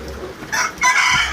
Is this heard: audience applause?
no